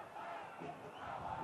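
Stadium crowd at a Detroit City FC versus FC Tulsa soccer match, a steady broad roar of cheering and shouting that holds at an even level throughout, with no distinct voices standing out.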